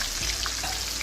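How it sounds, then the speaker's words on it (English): Fresh shrimp fry in hot oil with a steady, close, dense sizzling crackle throughout the short stretch, no voices over it. "while those are frying, we're going to go ahead and work on the next batch"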